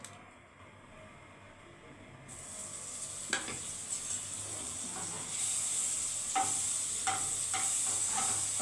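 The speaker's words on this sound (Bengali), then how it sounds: "কম আঁচে ভাজবে বাটার দেওয়ার পরে" Bread slices fry in butter in a pan on low heat, with a steady quiet sizzle that swells partway through, broken by a few soft scrapes and taps of a utensil.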